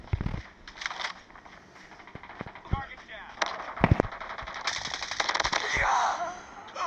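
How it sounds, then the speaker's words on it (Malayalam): Automatic gunfire in a Call of Duty match, with scattered sharp bursts and single shots of moderate loudness over background game noise, while a player talks over the action. "പുറകിന്ന് വെടി വെക്കുന്നുണ്ട്"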